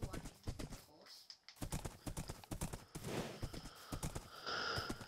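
Horse hooves clip-clop in Minecraft with a whinny, repeated hoofbeats running through the clip beneath a talking voice.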